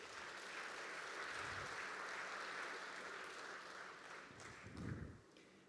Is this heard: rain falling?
no